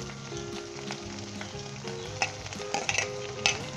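Green chilies frying with ginger and garlic in a pan for a Punjabi chana dal sabzi, a steady close sizzle with scattered crackles and a few sharper spatters toward the end, no voices.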